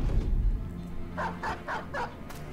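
Dogs barking in the Battle Brothers video game: four short, sharp barks in quick succession, moderately loud, over a low rumbling background.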